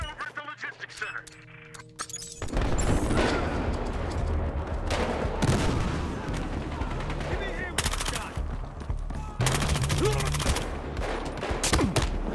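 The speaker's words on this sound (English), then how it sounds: "Can you people stop shooting me in the leg?" Gunfire in an online Team Deathmatch of Battlefield Hardline on the Xbox One, on the Derailed map: a loud, near, almost continuous exchange of shots, with sharper bursts and single cracks standing out.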